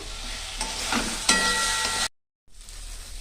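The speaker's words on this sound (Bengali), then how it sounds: "একটু কষিয়ে নেব।" Close sizzling as spices and boiled potatoes sauté in a pan with a few scraping stirs, then a brief silent cut before the sizzle resumes quieter.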